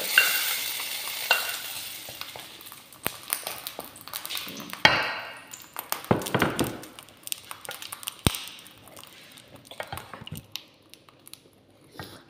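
Frozen molokhia slowly thawing in a pot gives a soft, steady sizzle, broken by occasional stirring scrapes and light taps of a utensil against the pot, at close range with no voices.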